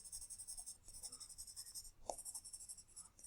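Graphite pencil shades across paper to roughen a concrete surface in a sketch, producing a steady, close scratchy rasp in rhythmic back-and-forth strokes, with a faint tap partway through.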